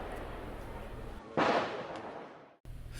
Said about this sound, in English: The boys and younger men lit deafening fireworks with great abandon at all hours of the day, even into the night.